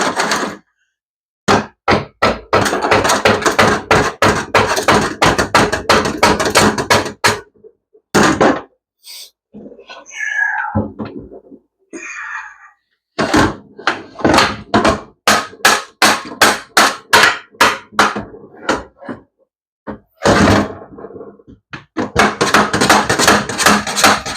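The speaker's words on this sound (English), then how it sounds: "Give this a couple quick little whacks." A hammer strikes a transmission valve body from a 4R75W automatic transmission in a long run of sharp, close metallic whacks, fired in rapid bursts with brief pauses and a few softer taps between.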